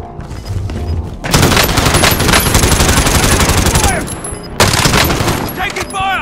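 Loud, dense automatic gunfire from the Call of Duty: Warzone video game, sustained bursts with brief pauses and a few chirping game effects, playing continuously and close.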